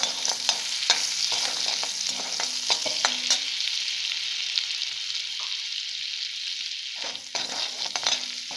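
Butter melting in a frying pan for a mattar paneer curry gives a continuous bright sizzle and crackle, with occasional scraping stirs of a utensil against the pan.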